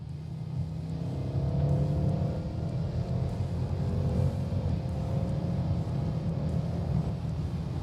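An Audi RS7 engine hums steadily and then revs with a rising, throaty drone, sustained and fairly loud throughout as though heard from inside the cabin.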